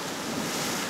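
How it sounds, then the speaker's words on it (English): Ocean surf crashes over a reef beside a blowhole, a dense, roaring wash of water with wind rumbling across the microphone. "The waves come crashing on the top of this reef right here."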